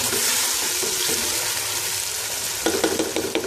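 Chicken pieces and a cup of tomato paste being stirred in a hot pan for boneless chicken chatkhara, a loud continuous sizzle with scraping spoon strokes that grow more pronounced toward the end.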